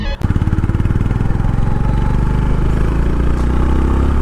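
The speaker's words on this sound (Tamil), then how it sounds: "பைக்கினுடைய எக்ஸாஸ்ட்" A Honda H'ness CB350 motorcycle exhaust fires up and settles into a loud, close, rhythmic throbbing idle.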